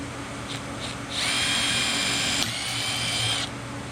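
A power drill bores a hole through a Honda CRX shifter part on a twin-turbo car, with two brief taps, then a steady, loud, high-pitched whine that dips briefly midway and cuts off near the end, no talking.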